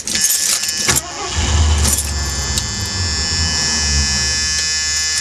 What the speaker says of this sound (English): I guess we can go ahead and try and start the Grand Marquis just to see how it'll start after sitting for a little while.